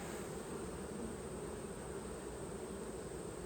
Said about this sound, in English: The beautiful bees, man.